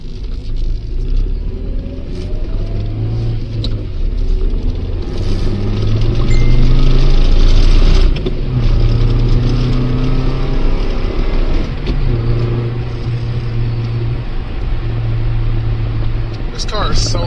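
A Ford Escort GT engine drones and rumbles while driving on backroads, a steady close interior hum that rises and falls with shifts and revs, with a voice talking over it.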